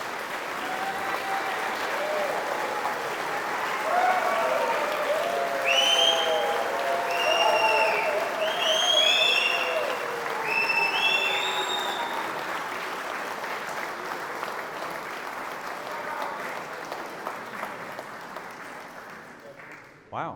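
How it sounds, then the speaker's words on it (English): Audience applause fills a shooting championship ceremony at Eton Hall, a steady, dense wash of clapping from a large crowd lasting about twenty seconds, with faint whistles or cheers rising over it midway before it fades out. "So I'd just like, please, a round of applause."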